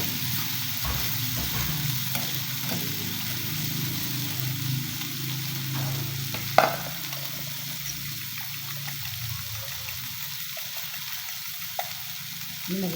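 Bitter gourd omelette frying in a little oil, a steady soft sizzle running throughout with occasional stirring clinks and a faint background hum.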